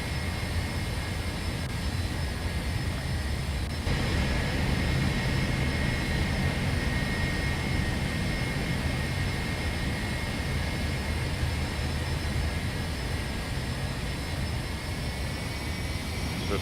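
Simulated Embraer E145 jet taxiing in X-Plane 11 at Honolulu, a constant loud whining jet-engine hum with a steady high tone, unbroken for the whole stretch.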